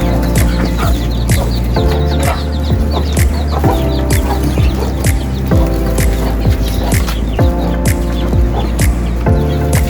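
Domestic ducks feeding among clucking chickens, with constant loud bird calls, rapid pecking and clucking close by and no talk.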